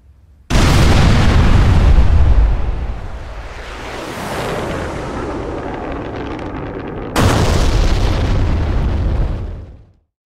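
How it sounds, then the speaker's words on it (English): Cannon rounds from an AKAN M/50 gunpod slamming into a ground target in the DCS AJS37 Viggen flight simulator: a loud, sustained roaring burst of impacts, a brief lull of rumbling, then a second heavy burst that cuts off. "I'm going to show you the impact view here, and I want you just to kind of see how accurate these rounds really are"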